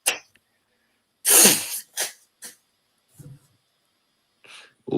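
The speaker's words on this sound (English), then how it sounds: "was blowing my nose, man." Someone close by blows their nose with one forceful, breathy blast, followed by a few shorter snorts and sniffs spaced out over the next few seconds.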